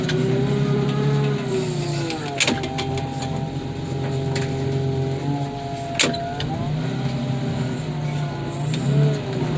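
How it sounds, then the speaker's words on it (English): A car crusher flattening K-frames gives off a loud continuous machine drone with a sustained hydraulic whine. A few sharp metallic cracks and creaks cut through it, close and heavy throughout. "crush some K-frames"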